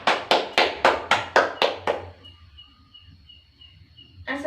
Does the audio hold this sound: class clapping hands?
yes